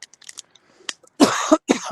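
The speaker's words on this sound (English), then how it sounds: "I do have a bit of this residual cough" A few harsh, close coughs in quick succession from a lingering residual cough, after a moment of quiet, with faint background sounds before them.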